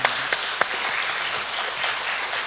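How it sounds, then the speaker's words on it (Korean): A church prayer-meeting audience gives a round of thankful applause, dense steady clapping with a few sharp individual claps standing out near the start, close and fairly loud, with no talking. "감사의 박수"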